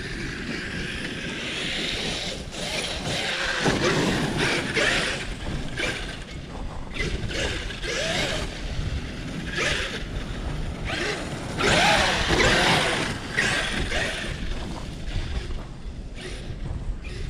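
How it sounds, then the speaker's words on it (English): Gusting wind buffets the microphone on an icy, cold snowy winter day, surging and easing in broad waves alongside a rattling mechanical whir from a ProLine Brute-bodied RC vehicle. "Sorry about all the wind"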